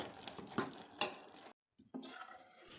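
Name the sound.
spoon stirring payasam with ghee in a pan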